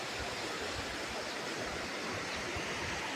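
Gurgling streams rush steadily at the Galdhara Khodiyar temple in a hilly spot by the Shetrunji river, a dense, even water roar that runs unbroken and close, with no voices.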